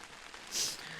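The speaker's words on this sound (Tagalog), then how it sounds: "Oh, ang lakas ng ulan." Heavy rain drums on surfaces at a campsite, a steady broadband hiss that swells briefly louder midway through this short moment, with no voices.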